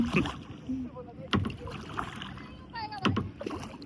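Kayak paddle strokes on open water at Hatta Dam, with three distinct splashing dips spaced a second or two apart, close to the microphone, plus light water noise and faint voices in between.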